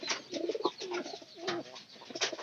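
Pigeons coo in a rhythmic series of soft, throaty calls close by, repeated through the stretch with brief pauses and no voices.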